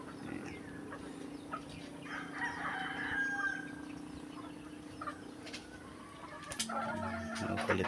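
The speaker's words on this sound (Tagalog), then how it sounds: "Mga native manok." Native chickens cluck steadily in a busy outdoor farm yard, with a rooster crowing partway through and more crowing near the end, against constant background noise.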